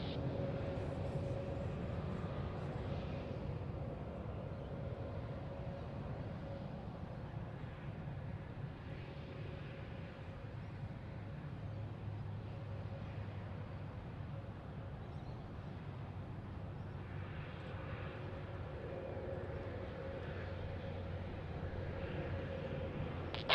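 A Qantas airliner takes off from runway 34 right at Sydney Airport, heard as a steady, broad engine roar that holds at an even level throughout, with no talk.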